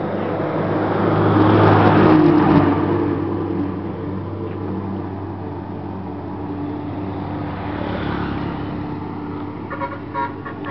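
A modified XRM 125 motorcycle engine runs with a steady, close, loud drone that swells briefly in an early rev before settling back to an even idle, with no talking.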